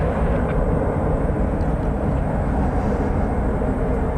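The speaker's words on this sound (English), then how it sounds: "We have a Spirit Airlines plane coming into view there." A jet airliner roars steadily overhead, a loud continuous engine rumble that fills the whole stretch without letting up.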